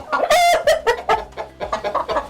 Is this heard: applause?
no